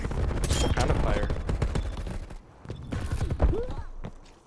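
Gunfire in the video game Black Ops Cold War, rapid bursts of shots crackling loudly through the first half, then a quieter pause before scattered shots resume, with voices talking over the action.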